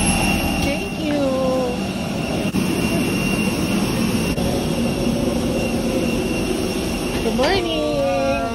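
A steady, loud airplane jet engine roar with a high whine while boarding, continuous throughout, with faint voices in the background.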